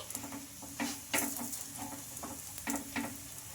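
Green pea paratha frying in oil on a hot pan, with fresh oil spread on the flipped side: a steady close sizzle broken by a few sharper crackling bursts, with no talk.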